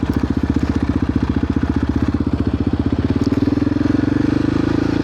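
A Yamaha Raptor 700R ATV fitted with an HMF exhaust rides along, its engine putting out a steady, close, loud pulsing thump that rises slightly in pitch toward the end.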